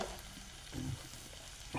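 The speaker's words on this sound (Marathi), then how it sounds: "भाजी हे कांदा आणि टोमॅटो परतून घ्या" Onion and tomato sauté in a pan with a faint, steady sizzle and a couple of brief stirring scrapes.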